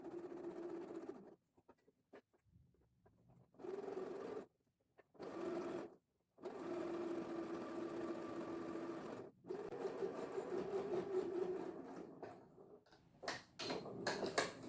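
A sewing machine top-stitches the edges of a reversible sun hat in several bursts of steady mechanical whirring, broken by short pauses, close and fairly loud.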